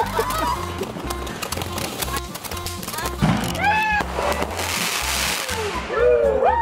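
Little popper fireworks go off on New Year's Eve in a rapid scatter of sharp cracks and snaps, some near and some farther off, with people talking and exclaiming over them.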